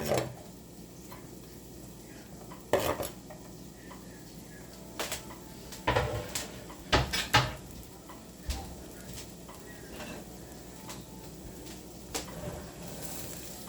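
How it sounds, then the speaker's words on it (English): Garlic going into a hot pan at home, with quiet frying and intermittent stirring knocks and utensil clatter against the pan, scattered sharp taps over a low background hum. "Putting the garlic also in."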